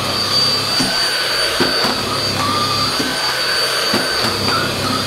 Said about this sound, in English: the vacuum cleaner does get stuck because it's vacuuming and sucking up the mat itself